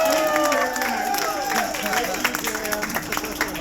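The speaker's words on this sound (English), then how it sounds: "So let's all clap for that." Wedding guests at a best man speech burst into applause, with scattered claps, cheers and voices mixed in, fading gradually over a few seconds.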